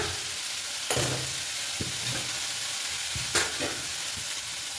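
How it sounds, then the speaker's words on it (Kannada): Bitter gourd slices sizzle steadily as they roast in a hot pan, with a couple of scraping stirs and clinks over the continuous frying hiss. "ಹಾಗಲಕಾಯಿ ಸ್ವಲ್ಪ ರೋಸ್ಟ್ ಆಗಲಿ"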